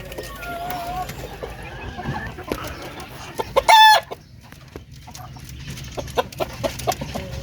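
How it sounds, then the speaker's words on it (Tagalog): Darag native chickens on a farm, scattered clucks and soft calls from the flock with one loud nearby rooster crow partway through, amid faint background noise. "ready to breed na mga darag native chicken"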